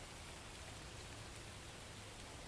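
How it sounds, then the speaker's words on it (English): Steady soothing rain hisses as a dense, even wash of noise, faint and continuous with no distinct drops or voices. "rain, rain."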